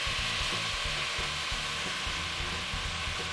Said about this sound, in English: it's time to add the bottle gourd and potato